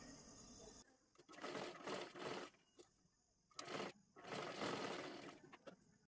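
A sewing machine stitches a one-piece dress made from a saree in several separate bursts of close, whirring running with brief pauses between them.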